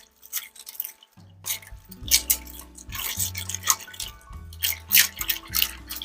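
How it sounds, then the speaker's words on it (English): Ice being stirred in a pot until it melts, giving wet, sloshing drips and squishy scrapes in an irregular rhythm, close up and with no talking. "you want to keep stirring this until the ice is totally melted"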